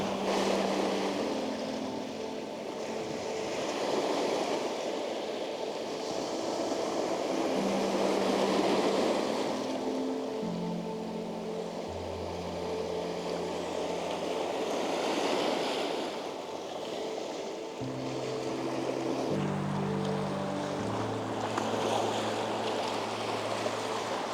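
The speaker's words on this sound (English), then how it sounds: "try to have the waves crashing over the rocks" Waves wash and crash over rocks along the Connecticut coast in a steady, moderate surge that rises and falls, with no one speaking.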